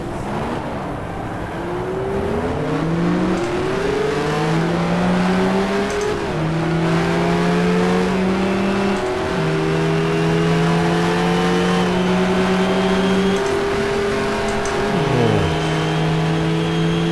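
Race cars on Suzuka in the GTR2 racing game, a 1994-season four-hour event, with a loud engine revving up through repeated gear shifts and climbing tones, other cars droning nearby.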